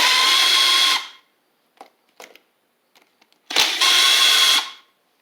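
Impact driver backing screws out of a Husqvarna YTH24V48 riding mower, two loud sustained buzzing bursts about a second each at the start and end, with faint clicks and handling noises in between.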